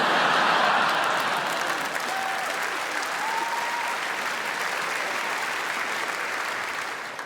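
Sustained applause from a comedy festival gala audience fills the room, loud at first and then holding steady before tapering slightly toward the end, with scattered faint cheers and no one speaking.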